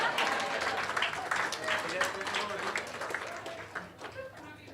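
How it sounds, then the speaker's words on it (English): Audience applause at an awards recognition during a company all-stars gathering, a steady wash of clapping across the whole stretch that fades slightly toward the end, with some talk mixed in. "you can clap for Kristen."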